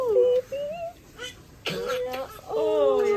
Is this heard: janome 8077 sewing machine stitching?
no